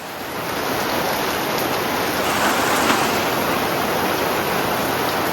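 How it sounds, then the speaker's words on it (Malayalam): Steady heavy rain pouring down, a dense continuous hiss filling the whole stretch with no voices. "നല്ല മഴയാണ്"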